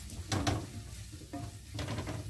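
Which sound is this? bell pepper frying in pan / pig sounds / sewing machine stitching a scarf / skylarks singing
bell pepper frying in pan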